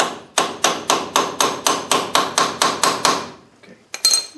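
Pliers used as a hammer strike metal brake parts on a Model T go-kart, a dozen sharp, evenly spaced close blows followed by a pause and two final hits.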